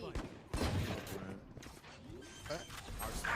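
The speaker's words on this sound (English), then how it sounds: "There's shots." Gunfire in a competitive first-person shooter, a few quick shot bursts heard under a player's excited voice chat.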